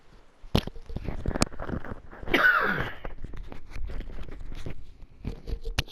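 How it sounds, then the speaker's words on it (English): A person gives a single close, harsh cough burst midway, surrounded by faint clicks, rustles and mouth noises. "I had to cough there"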